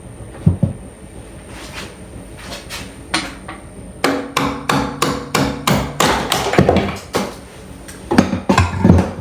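A wood lathe turning a lumpy epoxy-and-wood bowl blank slowly at 190 RPM, the tool catching on the uneven surface in a series of sharp, fairly regular knocks and thumps, clustered in bursts with short pauses.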